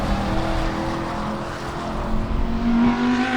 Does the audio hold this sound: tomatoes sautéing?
no